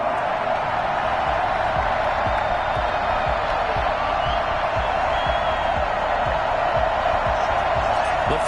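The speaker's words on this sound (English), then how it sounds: "This crowd is ready as their guys get set to match up between the Cincinnati Bengals and the Tennessee Titans" A stadium crowd at a Cincinnati Bengals versus Tennessee Titans NFL game in an EA Sports football video game roars as a steady, broad wash of noise, with faint whoops and claps, continuing unbroken throughout.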